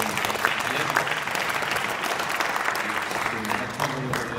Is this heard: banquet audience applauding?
yes